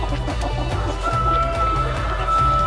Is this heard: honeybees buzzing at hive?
no